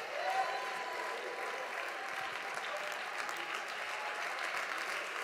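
Church congregation clapping their hands during a praise service, a continuous even roar of many hands applauding together.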